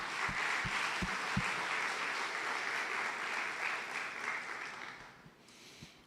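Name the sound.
church congregation applauding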